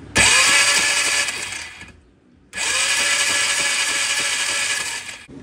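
A Polaris ATV engine cranks with the starter in two long bursts separated by a brief pause, giving a loud, close, whirring mechanical grind that never catches.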